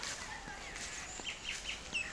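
Small birds chirp in short, scattered high calls over a steady outdoor hiss on a grassy lawn in the Seychelles, faint and fairly distant.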